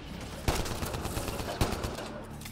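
Gunfire in the video game Mass Effect: Andromeda, with two sharp loud shots standing out over a steady crackle of rapid fire and combat noise.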